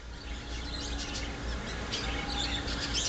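Birds chirping: faint, scattered high tweets and calls over a low background hum, brief and intermittent, with no talking.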